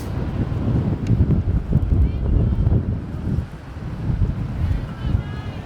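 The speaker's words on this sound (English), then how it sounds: "Chilly, windy day here at Trum Field" Chilly spring wind buffets the microphone at a morning high school softball game at Trum Field, a steady low rumble with gusts that swell and dip throughout, under a commentator's talk.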